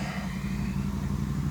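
A Chevy 350 V8 at hot idle with no oil pressure, giving a steady, close, low engine hum with an even pulse and no knocking.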